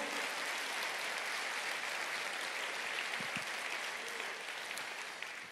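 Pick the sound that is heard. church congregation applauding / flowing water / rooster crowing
church congregation applauding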